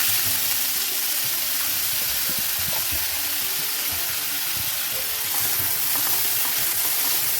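Chopped onions frying in hot coconut oil in a pan, a dense, continuous sizzle with faint crackles and soft stirring, close up and steady throughout with no voices.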